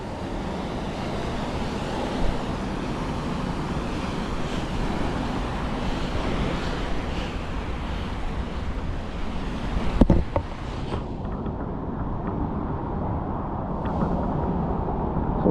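Steady roar of a waterfall on the Yuba River, a dense broadband rush sustained throughout, with brief wind buffeting on the microphone near the middle and a slight thinning afterward.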